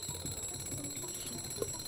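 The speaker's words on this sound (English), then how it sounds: "It turns on the alarm." An alarm rings in the video game Lakeview Cabin, a steady ringing tone that holds for the whole moment at low level, with no talk over it.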